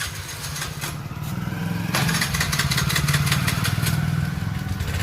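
A motorbike engine runs close by, a steady rough putter with a rhythmic pulse that rises slightly in intensity partway through and then holds a constant rumble, with no voices.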